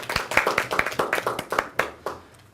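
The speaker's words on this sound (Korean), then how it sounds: "예, 박수" A small group at a church leadership seminar claps in a loose, uneven rhythm of distinct hand claps for about two seconds, then trails off into a few last claps.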